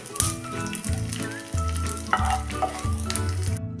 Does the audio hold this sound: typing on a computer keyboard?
no